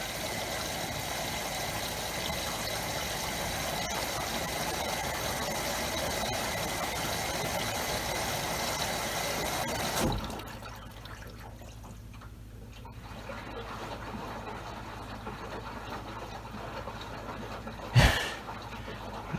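Maytag washer on a bulky items cycle tumbling pillows, with a steady whooshing churn of water and motor for about ten seconds that drops to a low hum, followed by one brief clunk.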